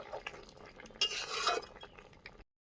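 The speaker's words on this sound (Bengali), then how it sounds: "এখন সবগুলো পিঠে আমি দিয়ে দিলাম এরপর একটু নাড়িয়ে দেব" Pitha being stirred in a pan, with a brief run of scraping and clinking from a utensil against the metal, fairly close and fading out after about two seconds.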